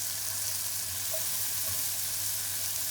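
Shallots and mushrooms sizzle steadily in a hot pan as they are stirred, a soft even crackle with faint scraping, close and alone without talk.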